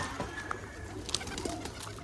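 Pigeons coo softly among birds gathering to be fed on a bath day, a few short low calls scattered over a steady background hum.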